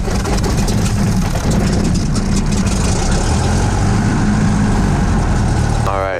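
A light aircraft's piston engine runs loud and steady right after the prop is called clear, a dense, close drone with a low rumble filling the whole stretch at high elevation in warm air.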